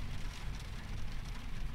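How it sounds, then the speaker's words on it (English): Steady rain in the horror video game TJoC Story Mode, a continuous broadband patter that stays even and fairly loud throughout with no voices. "It's raining."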